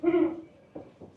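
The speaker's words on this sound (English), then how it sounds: "Got an owl somewhere." A single low hoot from an owl sound effect inside the Haunted Mansion ride at Magic Kingdom, brief and fairly close, followed by two fainter low murmurs.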